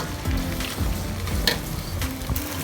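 Garlic, butter and shrimp sizzle steadily in a hot pan, a dense close crackle with a few soft scraping stirs and no voices.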